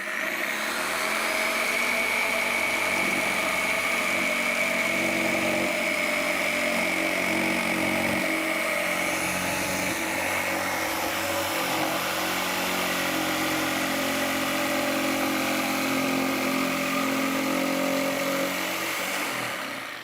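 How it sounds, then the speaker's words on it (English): Jigsaw plunge cutting into wood on the waste side of a line, a steady loud motor whine with cutting buzz running continuously and evenly throughout, close and alone without talk. "You can plunge cut with a jigsaw."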